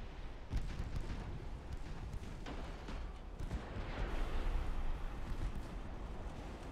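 Naval guns and shell explosions roll on in the game Ultimate Admiral: Dreadnoughts, a dense, continuous barrage of booms and thuds with sharp cracks layered over a heavy rumble.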